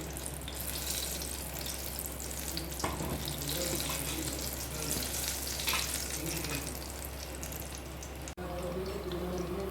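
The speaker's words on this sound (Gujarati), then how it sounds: "તો બસ હવે આને આપણે તળી લઈશું." Stuffed whole green chillies coated in batter fry in hot oil, giving a steady, close, continuous sizzle and bubbling that runs unbroken throughout, with a brief dip near the end.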